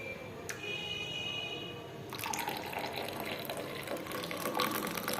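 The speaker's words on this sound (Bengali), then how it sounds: "ছাঁকনি ছাড়া চা ছাঁকছি, আমি পারি" Hot milk tea poured from a pan and strained by hand without a strainer, a steady liquid trickle and splash with faint metallic clinks, close and alone.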